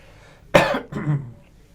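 A single sharp cough breaks out abruptly and is followed by a softer, rougher second burst, close and fairly loud against a quiet room.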